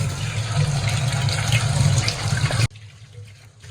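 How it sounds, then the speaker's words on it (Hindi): Tap water runs loudly and steadily over chopped mint in a strainer while it is washed for chutney, then cuts off abruptly near the end, leaving a quieter background; no one speaks. "बस इसको मैं धोऊंगी टैप वाटर से।"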